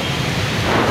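Heavy rain pours onto a road, a loud, dense, steady roar of broadband noise with no talk, lasting about a second.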